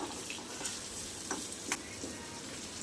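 Green chillies sautéing in a pan for a chutney give a steady broadband sizzle with a few sharp spatula scrapes and clicks. The frying is close and continuous, with no voices.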